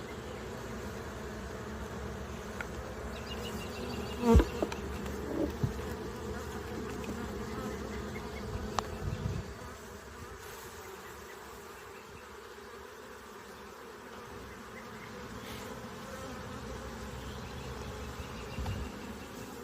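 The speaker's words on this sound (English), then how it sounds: "shake these bees that are from this frame into the hive" Dense, continuous buzzing of many honey bees close by as they are shaken from a frame into a hive, a steady drone with a few brief louder bumps and thumps early on.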